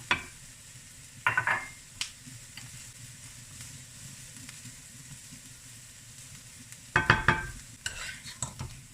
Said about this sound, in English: I'm going to be adding the garlic.